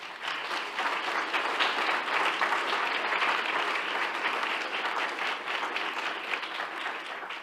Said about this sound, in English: So just a round of applause, please, for Stephanie.